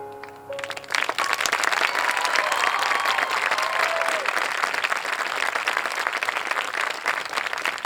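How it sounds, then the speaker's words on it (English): An audience at a high school spring music gala applauds an indoor color guard, a sustained burst of clapping from a large crowd that starts abruptly and continues loudly throughout. "One more round of applause for our indoor color guard."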